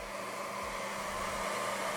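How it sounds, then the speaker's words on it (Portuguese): A hair dryer runs continuously at a steady, loud blowing roar, close up and unbroken from start to finish, with no voices. "Eu vou buscar o secador de cabelo lá, porque vai demorar muito isso aqui"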